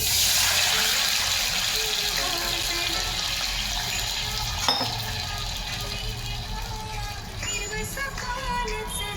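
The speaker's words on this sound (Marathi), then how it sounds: "या फोडणीमध्ये पाणी घालणे." Water poured into a pan of hot ghee tempering, giving a steady rushing, gushing hiss that gradually eases over several seconds.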